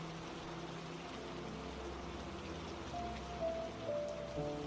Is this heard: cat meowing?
no